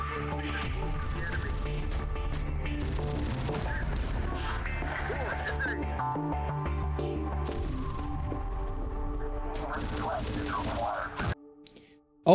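Loud, busy combat in Terminator: Dark Fate Defiance, with mortar fire and gunfire cracking among dense game sounds, continuing for about eleven seconds before cutting out abruptly.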